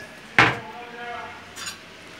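A ceramic plate is set down in a Turkish home-cooking competition, one sharp clatter near the start followed by a quieter clink about a second later, with little else around it.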